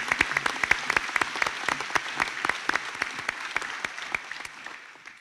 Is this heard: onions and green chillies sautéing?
no